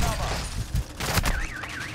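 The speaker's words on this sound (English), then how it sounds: "it's a team shooting at me" Enemy squad gunfire in Call of Duty: Modern Warfare II, a loud, rapid fusillade of cracking shots close by, layered with a warbling alarm-like tone and busy game sound.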